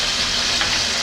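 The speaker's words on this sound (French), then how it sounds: "Je vais commencer par mettre le beurre" Steady, hissing sizzle of butter in a hot saucepan over medium heat, a continuous crackling fry with no voices.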